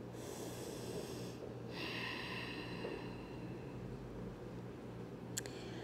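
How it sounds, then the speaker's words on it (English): Slow, soft breathing from someone resting face down during a gentle backbending yoga sequence, a quiet steady hush of air with no talking. "just take a rest. Breathing."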